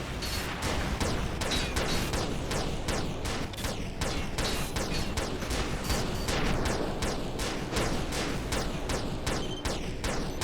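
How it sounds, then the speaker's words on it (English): Rapid barrage of missile and weapon fire in the Armored Core VI mech combat video game, a dense continuous volley of sharp bursts layered over heavy rumbling explosions, loud and unbroken throughout with no talking. "Send some more missiles."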